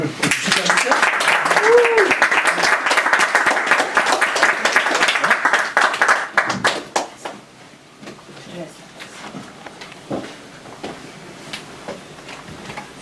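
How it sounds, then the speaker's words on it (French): Audience applause for a guest at a theatre interview, dense and loud for about six seconds, then thinning to scattered claps and quiet room sound with some murmuring. "on va l'applaudir"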